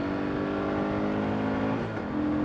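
A Yamaha 650 V-Star cruiser motorcycle engine drones at high, steady revs with a dense, buzzing note, briefly dipping and wavering near the end as if bouncing off the limiter, loud and close.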